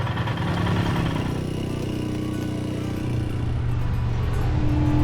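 A motorcycle engine labours up a steep street in dense traffic in La Paz, giving a steady, loud, low drone that barely changes pitch, with no voices.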